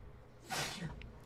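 A single sharp sneeze bursts out close by during a 10-ball pool match, followed by quiet room tone.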